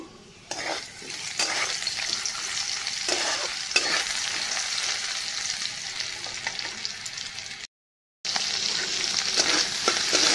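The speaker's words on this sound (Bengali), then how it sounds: "আর আলুগুলো একটু ভেজে নিচ্ছি।" Potatoes fry in a pan alongside soaked dried fish, giving a steady broadband sizzle with occasional stirring scrapes, close and continuous apart from a brief dropout near the end.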